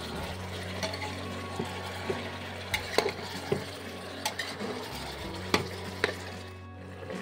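Mutton with minced garlic and salt fries in a pan, a constant sizzle under repeated metallic scrapes and knocks of a spoon stirring, ending in a short quieter stretch.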